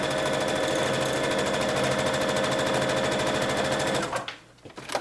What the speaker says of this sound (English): We're going to baste this hem down first.